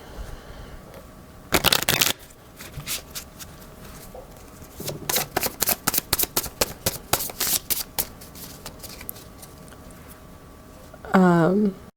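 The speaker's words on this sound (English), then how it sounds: "So I'm going to pull some cards for your energy in this situation." Tarot cards shuffled by hand and pulled from the deck, with crisp riffling bursts and a rapid run of flicking card snaps, close and clear, while a voice speaks softly and briefly in between.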